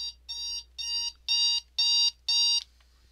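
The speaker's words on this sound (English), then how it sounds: "And that was my alarm" A morning alarm clock in a video game rings in six evenly spaced bursts of bright, buzzing beeps, each about a third of a second long, loud and close over a faint low hum, then stops.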